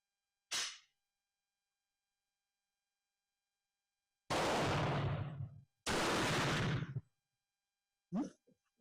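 A Danish rolling block rifle in 11.7 caliber fires single loud outdoor shots spaced seconds apart, each a sharp blast with a long rumbling tail, among stretches of silence.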